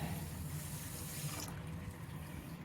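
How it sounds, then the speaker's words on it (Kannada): Water pours steadily onto a glass of sugar in a pot to make syrup for badam puri, a soft continuous splashing trickle that fades partway through in a quiet kitchen. "ಒಂದು ಗ್ಲಾಸ್ ಸಕ್ಕರೆಗೆ ಇಷ್ಟು ನೀರು ಹಾಕತ್ತೀವಿ ಅನ್ನಕ್ಕೆ."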